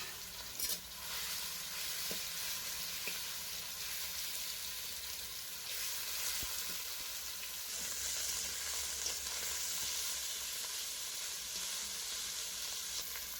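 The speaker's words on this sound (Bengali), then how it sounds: "মাংসটাকে এবারে ভেজে নেব।" Marinated meat fries in oil in a wok, giving a constant soft hiss and crackle with a few light clicks of stirring, steady and unbroken with no voices.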